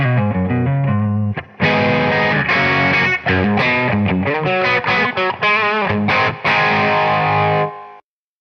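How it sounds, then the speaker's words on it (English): An electric guitar played through a balanced low to medium gain drive tone, with chords and single-note phrases ringing out loud and close, then a short pause and more riffing before it stops. "you can take a nice and balanced low to medium gain drive sound like this"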